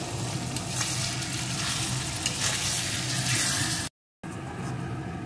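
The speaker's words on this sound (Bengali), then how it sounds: "এখন সমস্ত মশলাটা ভালো করে মিডিয়াম টু লো আঁচে কষিয়ে নেব" Spice masala for a spicy chicken curry frying in oil on medium-low heat, a steady close sizzle with faint scraping as it is stirred, continuous for several seconds with a brief dropout near the end.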